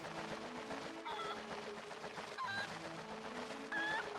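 Cucco chicken from The Legend of Zelda: Twilight Princess, giving three short squawking clucks spaced about a second apart over steady game background noise.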